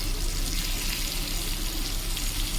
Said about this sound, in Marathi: मस्त फुगते छान असं दोन्ही साईडला फ्राय करते